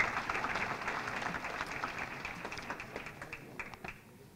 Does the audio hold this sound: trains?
no